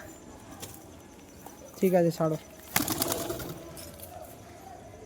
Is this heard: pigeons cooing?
yes